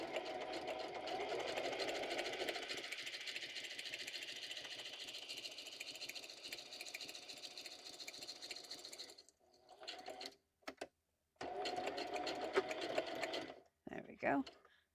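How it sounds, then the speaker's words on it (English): A sewing machine stitches steadily in a loud, continuous whir for about nine seconds, then stops and starts in short bursts as it backstitches on light blue fabric for a junk journal pocket. "I am going to backstitch."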